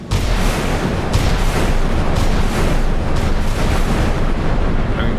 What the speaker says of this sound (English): she's fired almost certainly anti-shipping Tomahawks there